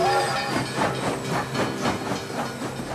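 A train of freight wagons rolls past with a hissing, rhythmic clatter of wheels over the rails, steady and moderately close over about three seconds.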